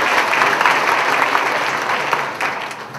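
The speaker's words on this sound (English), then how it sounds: "That's my applause" Loud, sustained applause from an audience at a 7th and 8th grade school winter band concert, a dense wash of many hands clapping close by, holding steady before tapering slightly near the end.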